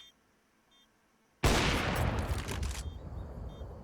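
Gunfire erupts suddenly in an esports shooter match, a dense, loud burst of rapid shots lasting over a second. Short beeps from the game can be heard before and after, and no one speaks.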